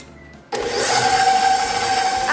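An electric mixer beats butter and sugar for pineapple squares, starting abruptly after a brief quiet moment and then whirring steadily and loudly with a sustained motor whine to the end.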